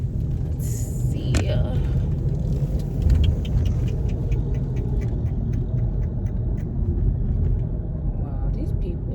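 A car drives at low speed in a parking area while turning around in a U-turn, its steady engine rumble and road noise continuous throughout, with faint clicks and small sounds on top and a voice speaking inside the car.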